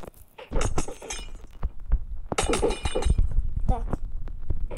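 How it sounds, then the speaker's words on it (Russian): Glass breaking in a video game, a burst of cracking and shattering clinks followed by scattered debris, heard under ongoing speech from a player. "ломаю стекло."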